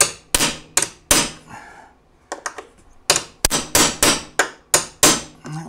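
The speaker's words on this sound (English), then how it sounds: "I'm going to use a fairly large hammer." Heavy strikes from a large hammer punching out rivets land in a steady series up close on a snowmobile tunnel, each loud metallic bang decaying quickly, with a brief pause midway before the pounding resumes.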